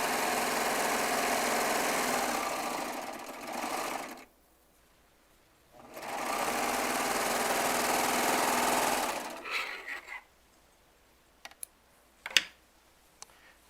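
A Baby Lock Triumph serger stitching fabric blocks runs in two long steady whirring stretches, separated by a pause, then gives a few short stop-start bursts with sharp clicks near the end.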